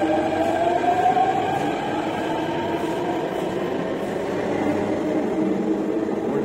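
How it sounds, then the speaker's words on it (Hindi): A Delhi Metro train bound for Vaishali pulls out of the station in the early morning, with a loud, steady rumble and a motor whine that rises in pitch as it speeds up. "और ये वैशाली मेट्रो निकल पड़ी है।"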